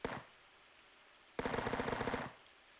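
A Glock 18 pistol in a hardcore first-person shooter game: one sharp shot, a pause, then a rapid full-auto burst of about a dozen rounds, loud and close.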